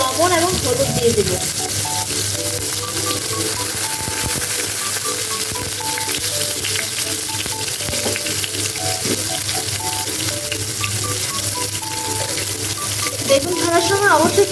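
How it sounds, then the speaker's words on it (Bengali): Eggplant slices fry in leftover fish oil with salt and turmeric, giving a steady broadband sizzle that runs the whole time, with scattered utensil clicks and some faint background voice. "এখন আমরা মাছের তেলটার মধ্যেই বেগুনগুলো ভেজে নেব।"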